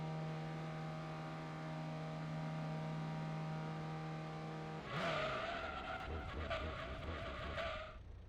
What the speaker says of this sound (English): That was some awkward braking